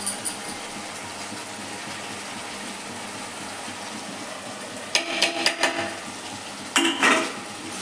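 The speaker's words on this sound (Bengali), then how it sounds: "এটাকে ভালো করে মশলার সঙ্গে মিশিয়ে দেবো এখন।" Paneer pieces being stirred into fried spices in a pan, with a few sharp clatters of a metal spoon against the pan in two short bursts over a steady background hiss.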